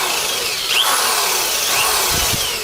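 A power drill bores steadily through carpet during brazing work, a continuous whining, grinding drone with slight shifts in pitch, close and loud, with no talking.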